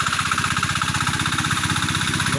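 A farm machine's engine, hand tractor style, runs working a rice paddy, a close, loud, steady rapid chugging that throbs evenly throughout.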